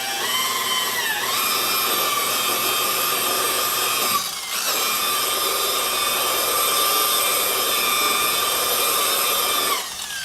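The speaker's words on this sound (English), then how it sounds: "I'm going to get the metal polish everywhere, and then with a slow speed buffer" A slow-speed buffer runs with metal polish over a metal running board, giving a steady, close whine that dips briefly near the middle and drops off at the end, with no talk.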